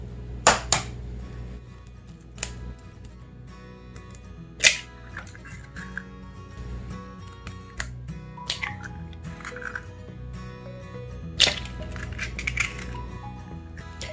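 Several sharp cracks and taps ring out against a bowl, followed by soft squishy, liquid sounds as three eggs are broken open for Yorkshire pudding batter.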